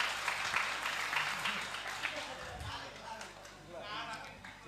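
Audience applause at a Sinau Bareng discussion gathering with a guest speaker, a steady crowd of clapping that lasts the whole few seconds, with voices talking over it.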